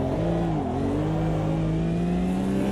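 A McLaren race car engine drones loudly and steadily in a sim racing game at Spa, its tone rising slightly as it closes in, with constant engine roar and no talk.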